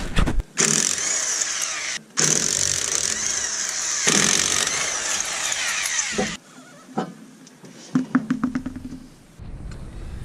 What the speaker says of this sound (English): I have this Harbor Freight corded electric impact, so it makes it pretty easy to get the lug nuts off